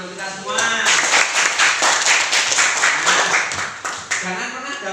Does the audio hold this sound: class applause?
yes